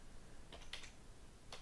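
Keys tapped on the keyboard of an Acer Predator Helios 300 gaming laptop, heard as a few quick, light clicks in two short bursts over a quiet background.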